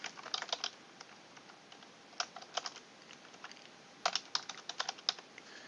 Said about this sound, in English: type in my information